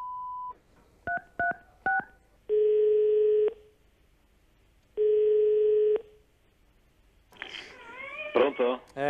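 A phone keypad sends a quick run of dialing tones, followed by two long ringing tones with gaps between, then a chirpy burst of other sound at the end; no voices are heard over the dialing.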